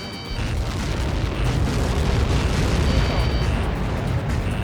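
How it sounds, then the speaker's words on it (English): A massive Helios projectile explosion in the video game Ace Combat 7 rolls out as a loud, sustained, deep roar that stays dense and steady from start to finish, with no talking over it. "How many got caught in that explosion?"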